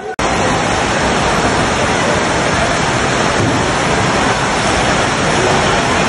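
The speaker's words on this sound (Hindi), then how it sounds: "जगह जगह से पानी आ रहा" Rainwater pours heavily into a wedding hall in Hyderabad after a downpour, a loud, dense, unbroken roar of falling water from start to finish.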